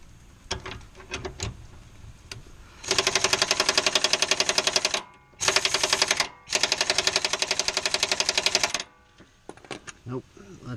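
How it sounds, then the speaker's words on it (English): A pneumatic impact gun hammers in rapid bursts on a control arm bolt of a 2004 Honda Pilot front suspension, three loud rattling runs with brief gaps, preceded and followed by lighter clanks. "So we'll grab our impact gun for that."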